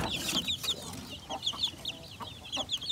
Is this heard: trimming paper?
no